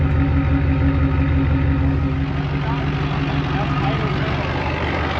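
A big LBZ Duramax diesel truck engine runs steadily through its exhaust stack, a loud, low, rumbling drone held at a constant pitch for several seconds with a sustained rough throb.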